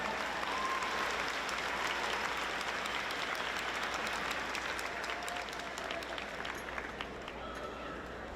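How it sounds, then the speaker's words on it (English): A commencement audience applauds the graduates with steady, even clapping that holds at a constant level throughout, dense and distant, with a faint murmur of voices underneath. "You may applaud."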